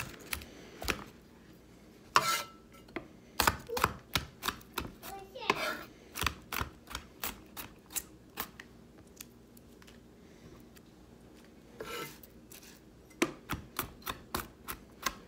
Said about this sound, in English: now I'm just going to take my garlic and just mince it up